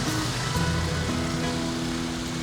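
Steady rain falls in Ecuador, a dense continuous hiss of drops on surfaces with low steady hum beneath, fairly loud and unbroken across the moment.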